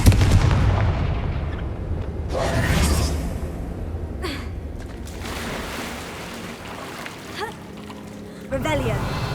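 A fire spell cast in Hogwarts Legacy bursts into a loud explosive blast with a whooshing impact, followed by further booming bursts and rumbling, with a voice heard over the action.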